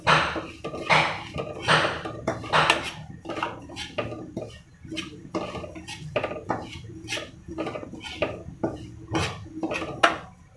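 Broken wheat porridge (dalia) dry-roasting in a pan on a gas stove, with repeated scraping and clinking of a spoon against the metal, irregular stirring strokes up close and no talk.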